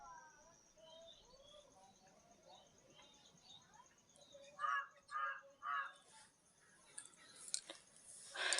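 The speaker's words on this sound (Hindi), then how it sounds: "सुबह हो गई है, कौवे सारे बोल रहे हैं।" Crows caw in the morning outdoors, a run of three loud, harsh calls close by after a stretch of softer chirping birds, with more calls near the end.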